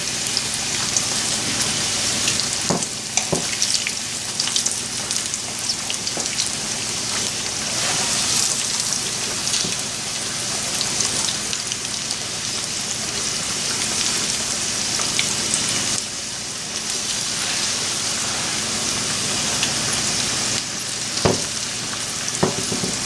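Pork chops frying in a pan: a dense, continuous sizzle and crackle, close and steady throughout, with occasional louder pops and faint clinks, no talking.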